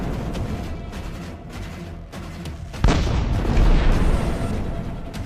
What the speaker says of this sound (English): a Ukrainian tank fires point blank at another Russian APC